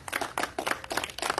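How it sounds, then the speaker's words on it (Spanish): Applause at a memorial ceremony in El Ángel cemetery honoring the martyrs of Uchuraccay: a short, close burst of hand clapping in uneven waves, rising and falling over a little more than a second. "¡Aplausos para sus memorias!"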